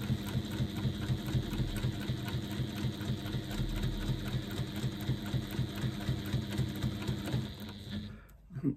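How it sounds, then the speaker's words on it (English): A sewing machine stitches down one side of an interfaced fabric strap, a steady, close mechanical whirring that runs without a break for about eight seconds before slowing to a stop. "Let's just stitch down one side."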